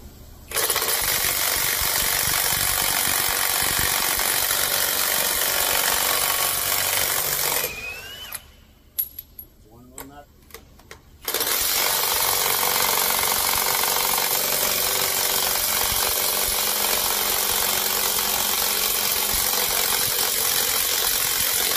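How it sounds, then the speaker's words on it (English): A Ryobi iTorque HP 1/2 inch drive impact wrench runs loud and close on a 6 amp hour battery, a continuous harsh hammering rattle that stops for about three seconds of quiet clicks and handling, then resumes steadily. "We're going to start with the iTorque HP 1/2 inch drive wrench."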